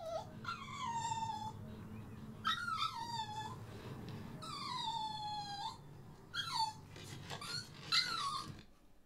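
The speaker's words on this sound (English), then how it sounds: "we're also going to add maybe a sound effect of a dog. Maybe a dog whining or something." A dog whines and whimpers in a series of rising and falling high-pitched cries, with a faint traffic rumble underneath.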